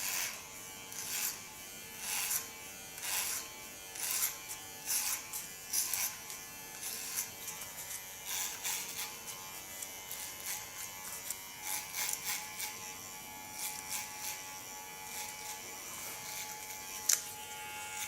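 Electric hair clipper buzzing steadily at the back of the neck during a nape shave for a bob cut, with short pulsing strokes repeating throughout, close and fairly quiet, no talking.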